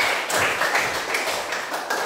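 A classroom of students claps after a group presentation, a dense patter of many hands lasting about two seconds at a steady, moderate level, with no voices heard.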